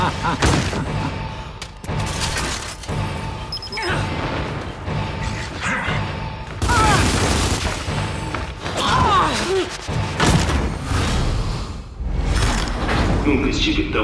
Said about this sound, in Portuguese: Granada de choque chegando!